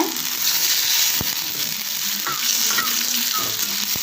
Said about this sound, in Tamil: கோவைக்காய் வந்து நல்லா ஃப்ரை ஆகணுங்க